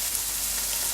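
Meat chops sizzle steadily in a pan of spiced pilau rice, a dense, even frying hiss heard up close without pause.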